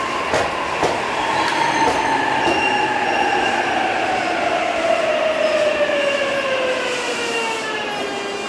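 A Japanese 205 series commuter train running, its loud steady rumble overlaid by a falling electric motor whine, with faint wheel squeal and clicking from the rails throughout.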